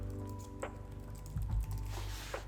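Computer keyboard typing, a few soft scattered keystrokes at close range over a steady low electrical hum, faint and irregular.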